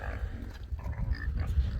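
Pigs on a farm grunt and snuffle nearby, a steady low rumbling of animal noises mixed with some indistinct voices in the background.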